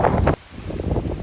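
Strong typhoon wind gusting in Okinawa, a loud buffeting roar that drops away abruptly partway through, then returns as a lower, steady rush with mic-rumbling gusts.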